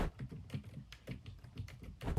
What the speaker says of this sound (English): It's a membrane keyboard, so don't expect that clack-clack of a mechanical board